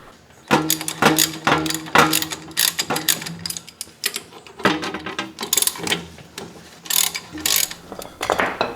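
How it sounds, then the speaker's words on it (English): Ratcheting wrench bursts loosen the lower ball joint bracket bolts on a lifted Toyota 4Runner, Tacoma or FJ Cruiser, several rapid clicking runs with metallic clanks between them, close and loud. "Now we're going to loosen these 2 bolts up that hold that lower ball joint cradle or bracket or whatever they call it to the spindle."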